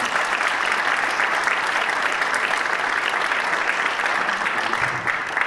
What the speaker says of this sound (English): That doesn't get applause in every circle.